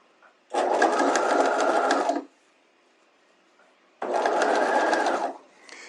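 A sewing machine stitches bias facing onto a bodice neckline in two close, loud bursts of steady whirring, each lasting under two seconds, separated by a quiet pause.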